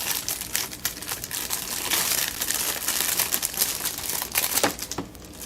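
Plastic wrapping being pulled off new textured resin tray and coaster molds, with continuous close crinkling and crumpling that is steady and loud and stays clear of talk.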